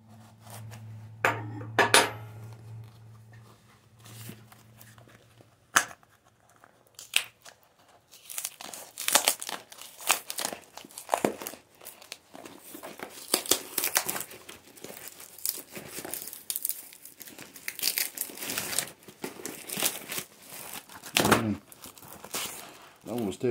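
Crinkling and tearing of a heavily taped mail package being unwrapped, close and busy with irregular rips, rustles and crackles after a quieter opening with a low hum.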